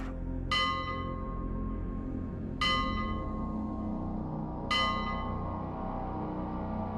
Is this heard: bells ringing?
yes